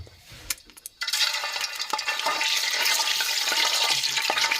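Hot avocado oil being tested before frying dumplings: after a few quiet knocks, a loud, dense crackling sizzle bursts up and holds steady with scattered pops.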